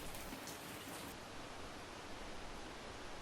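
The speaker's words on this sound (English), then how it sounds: "We've also got rain." Steady, dense rain hiss, even and continuous throughout, with no voices or other sounds.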